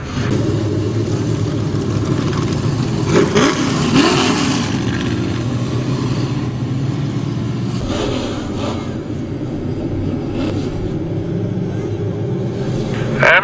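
Race cars roar around Trail-Way Speedway during a heat race, a loud continuous engine drone that swells as they pass, with an announcer talking over it.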